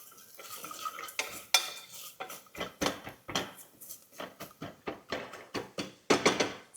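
Spoon stirring baadiyan dal in a metal pot, a steady run of scraping clinks and knocks against the pot, close and rhythmic without talk.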